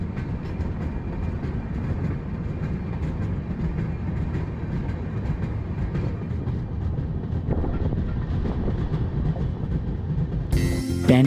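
Inside the Dhauli Express passenger train between Puri and Howrah, a steady rumbling roar of wheels on rails with faint clickety-clack runs continuously, heard from within the carriage, with a sharp clatter at the very end.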